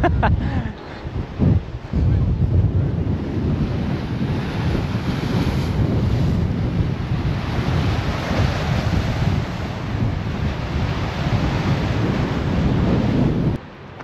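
Strong wind buffets the microphone in a loud, constant roar, with lake waves washing underneath and a few knocks near the start, in Bariloche, Argentina.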